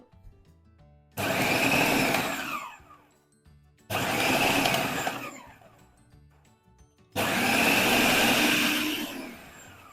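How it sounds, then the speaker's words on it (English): A food processor blitzes flour with chilled butter for pastry in three loud, close bursts of whirring, each lasting one to two seconds, with quiet pauses between them. "we're going to blitz it so it's all mixed in, and then we'll add our butter"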